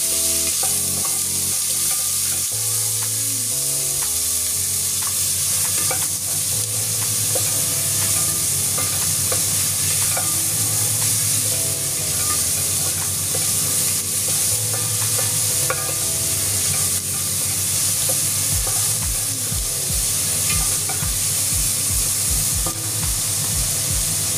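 Onion sizzling and frying in a hot pan while being stirred, a steady bright hiss with scraping stir sounds and a run of quick low taps near the end, no talking.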